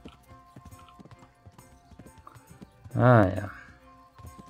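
Horse hooves clip-clopping at a steady rhythm while riding in Kingdom Come: Deliverance, with a short loud whinny near the middle and a voice speaking briefly.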